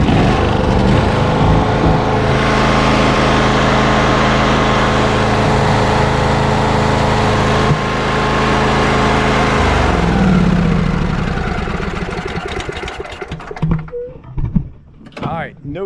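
A Craftsman lawn tractor engine runs steadily and loudly up close with a constant droning hum, then roughens and sputters toward the end before trailing off unevenly.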